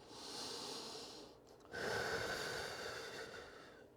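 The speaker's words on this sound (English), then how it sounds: "Breathe." Close nasal breaths during a floor mobility exercise: a long exhale, a brief pause, then a stronger inhale-exhale with a faint whistling edge.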